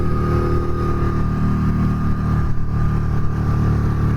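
A Harley-Davidson V-Rod Night Rod Special motorcycle engine drones loud and steady while riding, a dense low rumble with wind buffeting and no voices.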